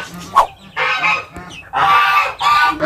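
Combatente fighting chickens in a coop give loud, harsh honking calls, one short squawk followed by three longer raspy cries in quick succession, close by.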